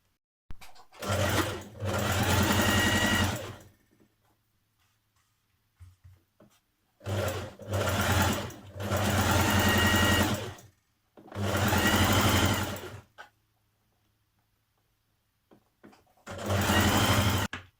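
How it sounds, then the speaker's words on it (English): An overlocker finishes the edge of skirt fabric in four loud, close bursts of rapid mechanical whirring, each lasting one to three seconds and separated by short quiet pauses. "if you have an overlocker, you will have overlocked it like this"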